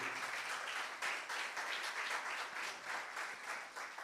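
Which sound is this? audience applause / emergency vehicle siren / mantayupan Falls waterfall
audience applause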